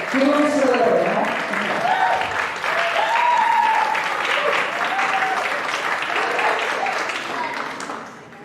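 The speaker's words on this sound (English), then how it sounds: "So y'all give her a round of applause." Audience applause for a performer coming on stage at a Latina music panel, sustained loud clapping for several seconds with voices talking and cheering over it before it tapers slightly.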